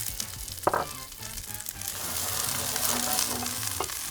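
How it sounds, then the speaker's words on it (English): Garlic, serrano chilies and onions sizzle and fry in a hot pan, a steady close crackle with a couple of sharp clinks from stirring. "we're gonna go right in with garlic and chilies, and these are Serrano chilies."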